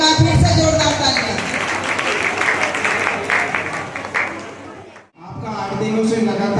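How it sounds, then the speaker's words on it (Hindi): Loud applause from an audience at a community Chaurasia Day event in Chhindwara, dense clapping that holds for about five seconds, breaks off briefly, then starts up again just as strongly. "एक बार फिर से जोरदार तालियां।"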